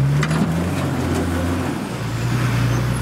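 Off-road 4WD vehicle crawling over rocks at Wheeny Creek, its engine rumbling low and steady and revving slightly as it climbs, close by with a few knocks, with no talking.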